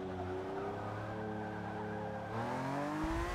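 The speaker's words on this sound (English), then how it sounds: "Little rumble strip action" A Forza Motorsport 6 race car drones at steady high revs, its engine note shifting as the tyres run over a rumble strip near the end, loud and close without talk.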